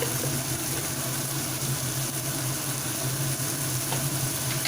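Spices fry in hot oil as turmeric goes in for a Punjabi dhaba-style rajma masala, giving a steady, close, unbroken sizzle with no talking.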